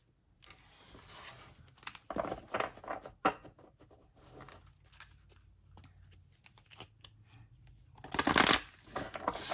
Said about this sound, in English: I am actually going to shuffle this particular deck.